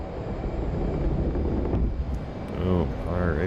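An F/A-18C jet roars during a catapult launch from an aircraft carrier in DCS, a loud, sustained engine rush that surges, with someone talking over it near the end.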